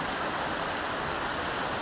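A mountain stream near Jogini waterfall in Manali rushes in a steady, dense, close wash of flowing water, unbroken throughout and with no voices.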